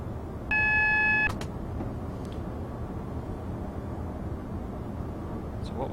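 A cab alarm in a Class 180 train on the Liverpool to Manchester route in Train Simulator 2015 sounds one steady electronic beep lasting under a second, over the constant low rumble of the running train.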